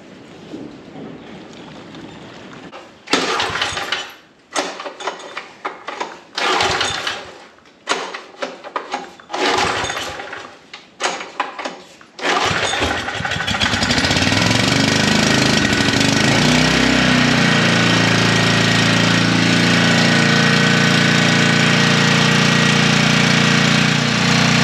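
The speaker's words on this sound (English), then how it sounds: "let's try putting some gas in this thing and see if it'll fire" Old engine being cranked after gas is poured in, a string of choppy sputtering bursts and cranking attempts, then it catches and settles into a loud, steady running roar that continues to the end.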